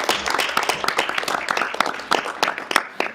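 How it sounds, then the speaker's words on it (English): An audience at a Show Low School District board meeting gives a round of applause: a short burst of many hands clapping at moderate distance, steady and fairly soft throughout. "if we can give them a round of applause"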